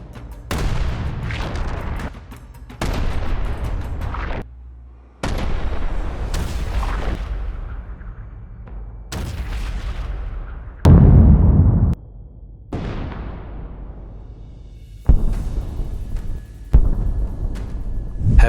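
A series of heavy booms and blasts from artillery fire, roughly seven or eight, strike at irregular intervals, each loud and followed by a rolling decay.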